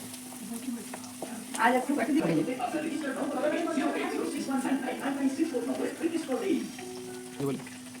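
Naan puri fries in hot oil with a steady close sizzle and bubbling, while someone speaks over it.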